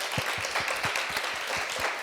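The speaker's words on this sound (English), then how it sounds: "Can we have a big round of applause, please, for Eartha and Anika?" Applause from an audience at a live music showcase welcoming two performers, dense clapping with some individual claps standing out rhythmically, steady and sustained.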